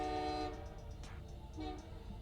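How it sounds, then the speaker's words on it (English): A passing train at night sounds a long, loud tonal horn blast that cuts off, followed by a low rumble of the rail cars and a brief second horn note. "You hear the train?"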